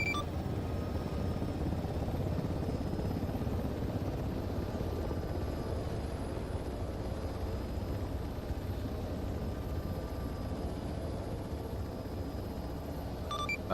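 A military helicopter in a simulation game whirs and drones steadily throughout its takeoff, a constant rotor and engine roar at even loudness with no talk over it.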